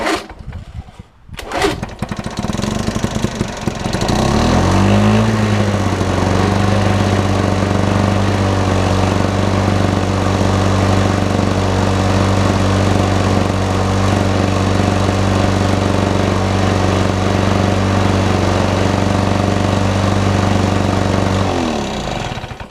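Lawn mower with an OMC engine running on choke: after a few sputtering pulls it catches and settles into a loud, steady, close-up drone with a throbbing low hum, running evenly until the revs change near the end.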